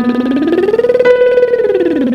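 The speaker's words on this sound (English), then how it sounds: "We're going to do exercises in the passaggio using our chest register and head register with a lip trill." A singer does a lip trill exercise through the passaggio, the buzzing lips gliding upward from chest register into head register and back down in one continuous sweep, close and loud.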